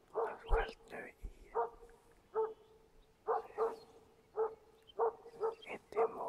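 A one-year-old moose-hunting dog barks at a moose held at bay in the forest, sharp barks repeating in an irregular rhythm at a distance of about 150 meters, faint and echoing.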